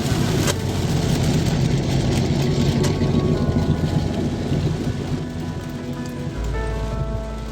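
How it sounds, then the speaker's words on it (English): Heavy rain drums steadily on a car during a drive south toward Victoria's Alpine Region, a loud continuous wash with low rumbling that may be distant thunder, without speech. "The rain hasn't eased up for the whole drive"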